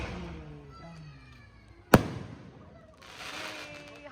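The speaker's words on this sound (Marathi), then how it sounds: "झाले आता ते मोठे आहेत ना फटाके." A single sharp firecracker blast at a festive family gathering, one loud close crack that decays quickly, with people chatting faintly before and a brief hiss afterward.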